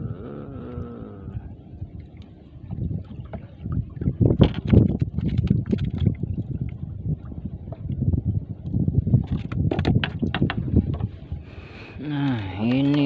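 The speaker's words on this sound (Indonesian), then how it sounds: "Anginnya mulai kenceng menah." Strong gusty wind buffets the microphone outdoors near water, with broad rumbling bursts that swell and fade throughout; a voice speaks over it and a boat may be nearby.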